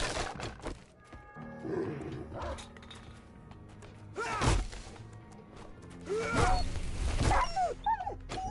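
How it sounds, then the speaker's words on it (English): In the video game 7 Days to Die, a dog barks in short repeated bursts amid game ambience, with a few louder growling yelps near the end and no voices over them. "Somehow the dog knows that we're here."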